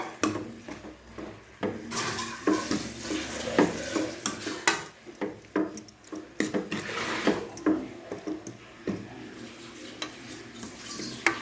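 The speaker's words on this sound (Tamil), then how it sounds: "தேங்காவை போட்டுக்கோங்க. போட்டுட்டு நல்லா வதக்கிக்கோங்க." Grated coconut and coriander are sautéed in a pan, with a utensil stirring and scraping in uneven bursts over a soft, constant sizzle. The sound is close and fairly quiet, with no talking.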